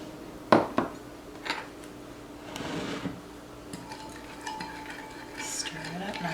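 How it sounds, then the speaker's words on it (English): Homemade cleaning solution with cheap vodka is stirred in a container, giving soft clinks, taps and liquid swishes close by at low level, with a voice speaking briefly. "Stir it up nice."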